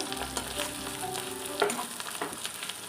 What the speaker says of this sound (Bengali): রসুনটা হালকা ভাজা হবে